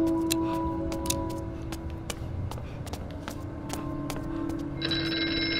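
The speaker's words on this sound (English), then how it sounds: "Oh, there's the phone again." A telephone rings in the horror video game Here They Lie, a steady electronic bell tone over a low ambient hum with scattered faint clicks and footsteps, and a brighter tone entering near the end.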